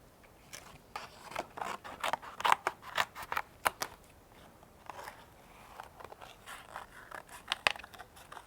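Scissors snip repeatedly in quick, irregular crisp cuts, close and fairly quiet, with a faint papery rustle between strokes.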